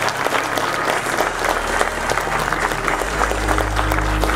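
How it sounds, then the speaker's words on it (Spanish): A church congregation claps loudly and continuously, a dense crowd applause that holds steady throughout over a low hum. "En Cristo Jesús, denle un fuerte aplauso."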